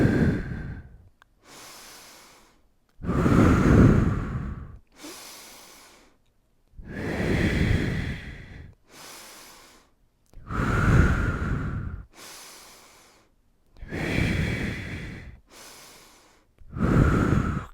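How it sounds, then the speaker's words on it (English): Slow, deliberate breaths in and out during a calm morning mobility and recovery routine, alternating long inhales and exhales in a steady rhythm, close and clear with no talking. "So I inhale up and then exhale down."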